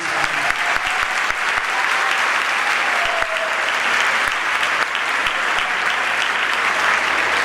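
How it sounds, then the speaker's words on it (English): Sustained, dense applause from a school concert audience fills the room for several seconds, steady and fairly loud with no talk over it. "So can we just give Mr. Heller a round of applause?"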